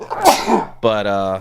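One loud, close sneeze bursts out, and a person starts speaking right after it.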